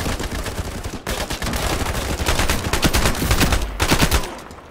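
Bursts of rapid automatic gunfire from the Ironsight shooter game, loud and close, running in sustained volleys with a brief pause near the start and another near the end, with no talking over it.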